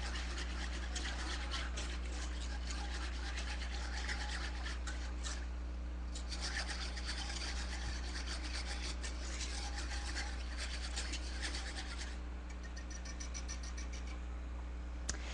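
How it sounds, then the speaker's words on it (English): Whisking a mixture of ingredients with nutmeg in a bowl in a store kitchen, a steady fast scraping rasp that runs throughout with brief pauses, close and fairly quiet over a constant low hum. "We're just gonna whisk this together."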